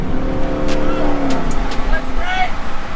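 A 900 HP Jeep Trackhawk accelerating hard on the street, a loud close engine roar with rising tones and some tire noise, and a voice talking over it.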